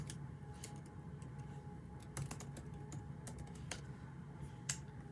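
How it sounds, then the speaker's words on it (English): Someone types a password on a computer keyboard, a quiet, irregular run of close key clicks over faint background hum. "so let me enter my password"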